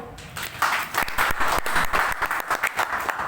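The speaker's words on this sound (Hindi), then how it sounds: "अभी ये पाटिल सर के लिए ताली बजाओ" Audience applause for Patil sir at a network marketing meeting, a dense burst of clapping from a crowded room, close and loud, continuing steadily with sharp individual claps audible.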